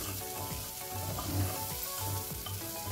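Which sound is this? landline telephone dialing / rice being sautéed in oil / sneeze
rice being sautéed in oil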